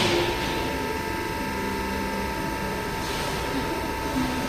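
Steelmaster SM-HEPM110 100-ton hydraulic workshop press with a thick heavy-duty piston, its ram lowering in a steady continuous mechanical whir and hum that holds even throughout, with no talking.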